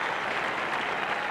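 A cricket Test crowd applauds a Kim Hughes shot in a Pakistan vs Australia match, a steady wash of distant clapping from a large stadium audience.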